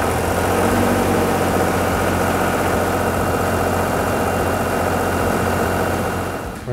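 A commercial generator engine at a cell site runs with a steady, loud, low mechanical drone and a constant hum, unbroken for several seconds before easing slightly at the very end.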